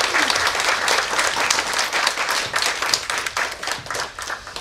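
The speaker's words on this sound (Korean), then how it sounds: "우선 우리 스텔라 데이지호 피해 가족 여러분께 여러분 좀 응원의 박수 좀 부탁드리겠습니다" An audience claps in support of the families of Stellar Daisy ship victims at a lecture event, a full, lively round of many hands clapping, loud and continuous with a slight rise and fall, no talk over it.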